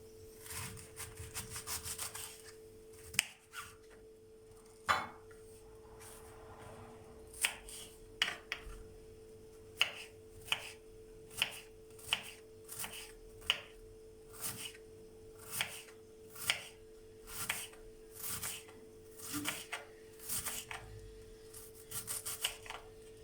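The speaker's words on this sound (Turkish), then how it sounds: "Lahanamızı küçük küçük doğruyoruz." A knife chops through red cabbage on a board in a series of crisp, regular strokes, quiet and close, with some rubbing and scraping between cuts.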